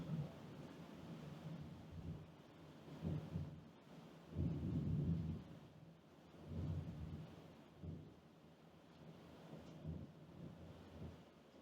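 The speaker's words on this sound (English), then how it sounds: "Don't know if you heard the thunder then." Distant thunder rumbles low and heavy in rolling swells during a storm, with the loudest peal building near the middle and softer grumbles continuing on either side, faint rain and wind noise beneath.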